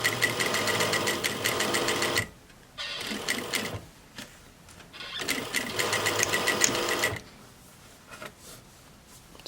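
A sewing machine stitches a reusable fabric face mask, including a back stitch, running in fast, loud, close mechanical bursts that stop and start, with quiet gaps between runs.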